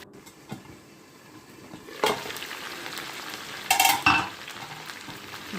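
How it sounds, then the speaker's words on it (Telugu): Okra frying in oil for a stew, a quiet steady sizzle with a couple of brighter utensil scrapes and clinks in the pan, close by and without speech. "ఇలా ఆయిల్లో మగ్గాలి వేగినట్టుగా చక్కగా నూనెలో మగ్గితే"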